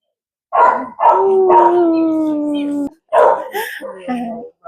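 A dog howls at the Santa Cruz County Animal Shelter. Several close, loud bursts come in quick succession, including one long drawn-out howl that sags in pitch, followed by shorter yipping cries.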